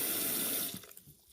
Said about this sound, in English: I'm gonna wash it in some vinegar and water